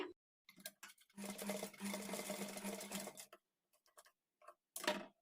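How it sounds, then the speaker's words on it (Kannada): Domestic sewing machine stitching a strip of cloth over a thread to make piping, running in one sustained burst of rapid mechanical whirring with shorter start-stop bursts before and after. "ಈ ಮಧ್ಯದಲ್ಲಿ ಈ ಥ್ರೆಡ್ಡನ್ನು ಇಟ್ಕೊಂಡು ಅಡ್ಡಡ್ಡ ಒಂದು ಸಲ ಸ್ಟಿಚ್ ಮಾಡ್ಕೊಳ್ಳಿ"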